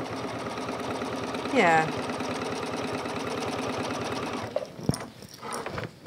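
A sewing machine runs steadily at close range, its fast mechanical chatter continuing throughout while a voice briefly speaks over it near the end.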